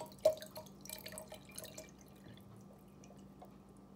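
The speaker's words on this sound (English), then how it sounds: "And I'm gonna go ahead and fill this with water." Water running and dripping into a glass mason jar holding jingle bells, a soft close trickle with a few splashy drips that fades quieter toward the end.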